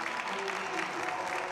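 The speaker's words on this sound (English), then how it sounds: "as the crowd gives him a nice hand." A gym crowd at a high school basketball doubleheader applauds an injured player getting back to his feet, a steady wash of clapping and crowd noise running through the short stretch with a voice over it.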